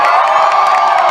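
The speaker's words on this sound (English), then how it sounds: "I'm going to need to hear how you guys will actually cheer for these champions" Arena crowd at a Knights of Valour event cheering loudly, a dense roar of shouts and whoops with excited voices, continuous and close.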